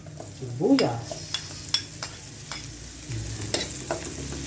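Garlic and onion sizzle in a pan for a Filipino ginataan with dried fish, with a steady frying hiss broken by sharp clinks and scrapes of stirring close by.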